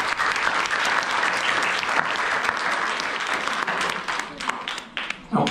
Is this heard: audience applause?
yes